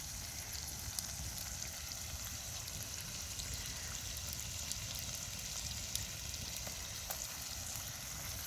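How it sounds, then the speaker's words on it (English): Ribeye steaks sizzle over the Bill Grill, a steady, even crackle and hiss with scattered small pops, moderately close and continuous throughout with no voices. "we've got some ribeyes cooking over the Bill Grill"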